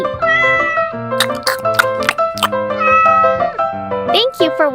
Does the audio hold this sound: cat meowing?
yes